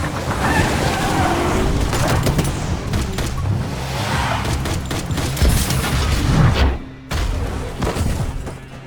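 Gunfire and explosions fill a film shootout scene at a compound, with dense booms, rapid shot bursts and vehicle rumble running loud and continuous, then a brief drop near the end.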